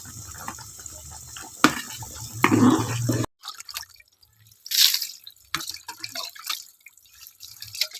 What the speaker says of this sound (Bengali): পাখি চান করছে, দেখো।